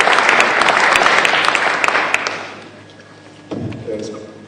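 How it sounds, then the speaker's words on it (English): Audience applause at the African Forum for Urban Safety, a dense burst of many hands clapping that fills the hall for about two and a half seconds before fading. A brief low thump follows near the end. "A round of applause, of course."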